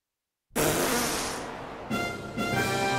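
A loud, buzzing cartoon fart sound effect in a Japanese anime bursts in after half a second of silence, sustains for well over a second, then gives two more quick blasts toward the end.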